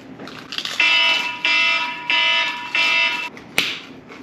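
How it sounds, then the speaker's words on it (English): A phone timer alarm goes off in four evenly spaced, loud electronic beeping bursts, each about half a second long, followed by a sharp click. "I'm gonna put a timer on my phone, counting down."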